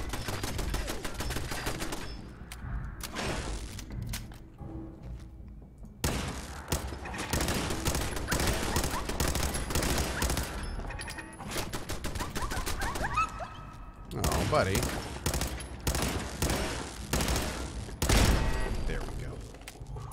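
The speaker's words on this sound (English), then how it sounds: "Oh, it's an automatic turret." Automatic turret in the video game Fallout 4 firing rapid bursts of gunfire, loud clattering volleys broken by short pauses, with a player's voice briefly speaking over the shooting.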